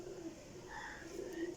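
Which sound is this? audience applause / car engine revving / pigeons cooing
pigeons cooing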